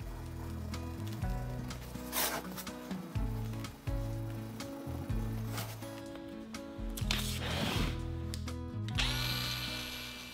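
An Arbortech ball gouge power carving a wooden cutting board, a loud whining motor rising and dipping in pitch as the rotary cutter bites into the wood in repeated passes, with brief gritty scraping bursts between strokes.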